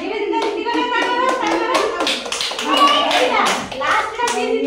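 Children in a classroom activity clap their hands in a steady run of near, repeated claps, mixed with kids' voices and singing-like speech throughout.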